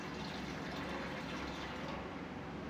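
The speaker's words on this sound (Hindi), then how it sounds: "पानी डालने के बाद हम पानी डाल देते हैं।" Water pours steadily into a container over broken ice, a continuous close rushing splash that holds even throughout, with no talking.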